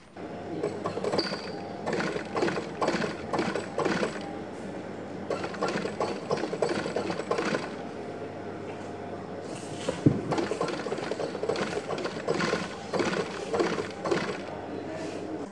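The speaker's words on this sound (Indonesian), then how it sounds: "Kita akan jahit dulu sekarang." Sewing machine stitching a sandal upper to its lining, running in steady bursts of rapid mechanical whirring with brief pauses between runs, close and fairly loud throughout.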